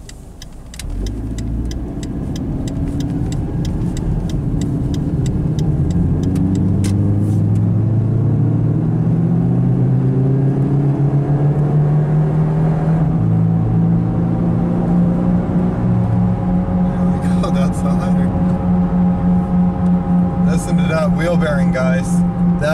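Turbo PT Cruiser convertible cruising on a highway, a steady low engine and road rumble that swells as it gets up to speed and holds, with someone talking over it.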